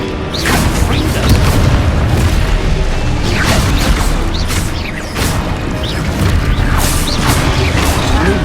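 Confringo blasting spells explode in Hogwarts Legacy: a dense run of loud booms, crashes and whooshing impacts follows in quick succession over a continuous, busy rumble.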